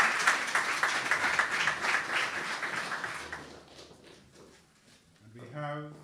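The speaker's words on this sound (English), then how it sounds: "Give a round of applause." An audience at an anniversary celebration symposium gives a round of applause, dense clapping that fades out over a few seconds, followed by a voice speaking.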